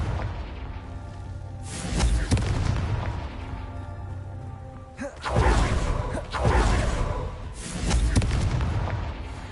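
The Confringo blasting spell goes off in the video game Hogwarts Legacy, heavy booming blasts with whooshing bursts recurring every couple of seconds over a rumbling, loud battle backdrop.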